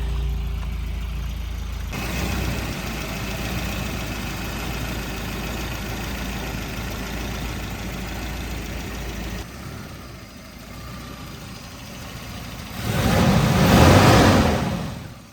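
An abandoned blue Volvo 242 engine idles steadily and fairly loudly for most of the clip, then grows louder and rougher in a brief surge near the end, with no talking.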